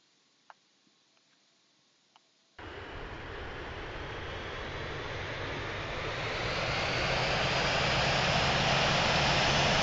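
Boeing 757-200 jet engines in the Infinite Flight simulator game while taxiing, a few faint ticks over near silence, then an abrupt steady engine roar that grows gradually louder and brighter.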